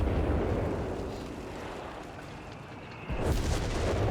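A landmine in Company of Heroes 3 goes off under retreating sappers, a single deep boom that rises suddenly out of rumbling battle noise near the end.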